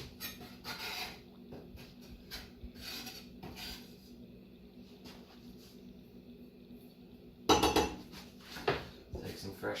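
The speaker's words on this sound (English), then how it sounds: "Take some fresh pepper." Fresh pepper ground into a pan of homemade sauce just after chopped basil goes in, a run of dry raspy grinding turns with light metallic scrapes of utensils against cookware, moderately close with a louder clatter near the end.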